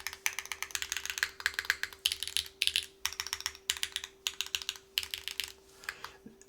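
Stabilizer keys pressed repeatedly on a Kei v2 60% mechanical keyboard build, close and crisp clacking in rapid bursts with brief pauses between, over a faint steady hum.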